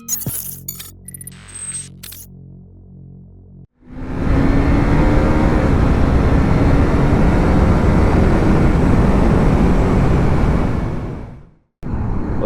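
A KTM RC 390 motorcycle engine roars steadily while riding, a loud continuous drone with rising pitch and wind rush that lasts several seconds, preceded by brief electronic chimes and followed by an abrupt cut.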